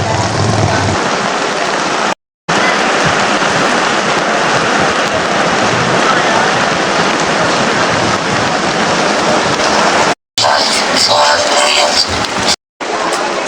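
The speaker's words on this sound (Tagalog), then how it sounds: "Lumalakas na yung ulan." Heavy rain falling at SM Buraotan, a dense loud hiss that runs continuously with a few abrupt cuts and no talk over it.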